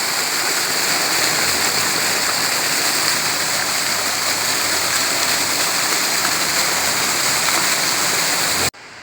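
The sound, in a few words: water running in a fountain in Alsace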